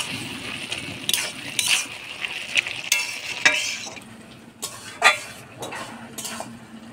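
Green chillies and salt being stirred in a hot pan for a fish-head dish, with repeated scraping and clinking of a utensil against the pan over a soft sizzle, close and fairly loud in irregular strokes.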